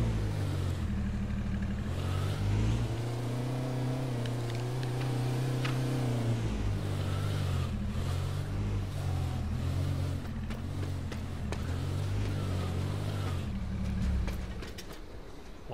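A vehicle engine drones steadily in the online survival shooter H1Z1, its pitch rising and falling as it is driven hard, fairly loud and continuous throughout with no talk.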